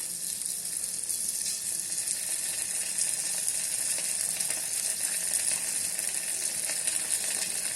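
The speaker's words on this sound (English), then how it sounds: "Now add some green chili sauce." Chicken frying in an electric kettle with green chili sauce poured in, giving a steady, fairly loud crackling sizzle throughout with faint stirring clicks, no speech.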